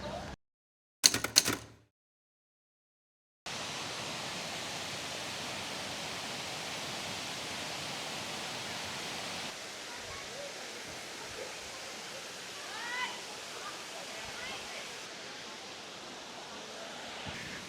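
A waterfall in a national park in Kanchanaburi, western Thailand, rushing as a steady, even hiss of falling water. It is fairly faint and constant, following a few brief bumps and a short silent gap at the start.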